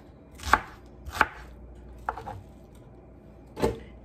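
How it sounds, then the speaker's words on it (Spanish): A knife chopping onion on a board, with four separate sharp chops at irregular intervals, close and fairly quiet, no talking. "vamos a cortar todo lo que tenemos por acá"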